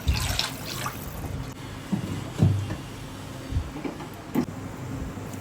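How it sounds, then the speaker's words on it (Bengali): Water is poured into a pan for curry broth in a kitchen, with splashing and trickling bursts and a few knocks of cookware, close and moderately loud. "এখন এটাকে আমি তুলে রাখবো এবং এটাতে পানি দিব ঝোলের জন্য"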